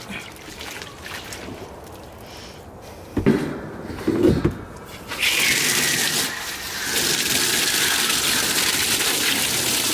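Water hose spray hits the cages of a Rottweiler kennel, a bright rushing hiss that starts midway after a couple of clanks and keeps going steadily, close and fairly loud.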